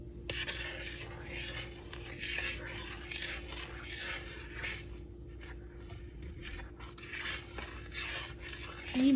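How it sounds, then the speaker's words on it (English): Gluten-free organic oats in a pot on the stove, heard as repeated close scraping and rasping strokes of a spoon stirring against the pot over a faint bubbling hiss, continuous for several seconds with no speech. "make me some gluten-free organic oats, obviously. So now I got that simmering."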